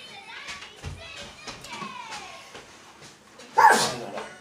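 A young boy sneezes once, loud and close, near the end, following a stretch of children's chatter and a dog's whimpering at a family seafood boil.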